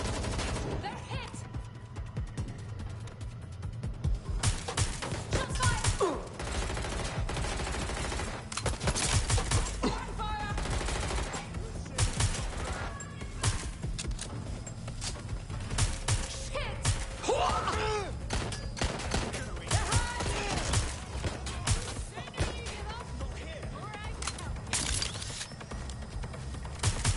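Sustained heavy gunfire in Watch Dogs Legion, with rapid automatic bursts and scattered single shots rattling continuously throughout, plus occasional game voices shouting over the fire.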